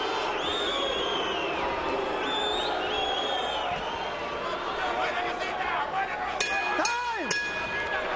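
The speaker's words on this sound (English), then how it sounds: "the crowd continues to boo" Boxing arena crowd at a Corrales versus Casamayor fight, a broad sustained roar of boos and jeers filling the hall, with chatter and a few whistles rising near the end.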